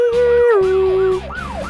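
An emergency vehicle siren blares loud and close, a long held tone shifting into rising and falling wails, with a steady low engine drone underneath.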